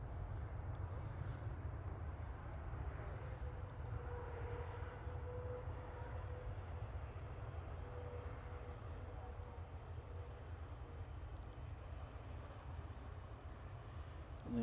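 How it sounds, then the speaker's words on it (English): A Turkish Airlines jet arriving from Istanbul touches down at Manchester Airport, heard as a faint, distant low rumble with a soft engine drone steady throughout, no voices. "Just touching down now, coming in from Istanbul is this Turkish Airlines."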